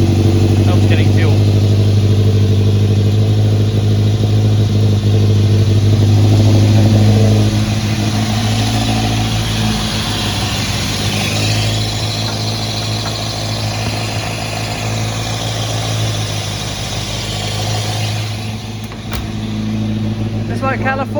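An Alfa Romeo car engine runs for a long stretch, loud near idle with a swell of revving early on before settling into a lower rumble, with voices faintly present.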